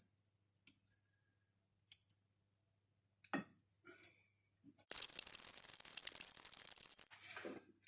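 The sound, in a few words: cutting banana for vegan banana cookies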